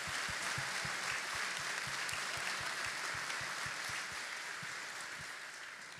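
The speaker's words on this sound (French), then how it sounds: "ça mérite une main d'applaudissement" Applause fills the hall at a 2023 graduation ceremony, a broad, steady crowd clapping that holds evenly, with a regular low thump beneath it, before tapering slightly.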